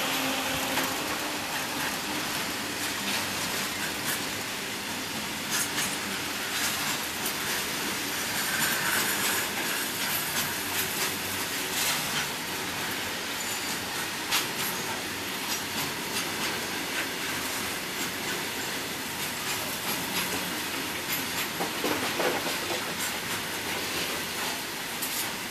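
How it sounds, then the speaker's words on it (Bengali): Freight train hauled by a WAG-9 electric locomotive rolling past, a steady loud rumble with faint rhythmic clatter of wagons and no horn in this stretch. "মালগাড়ি লিড বাই ওয়াগ 983 ইঞ্জিন"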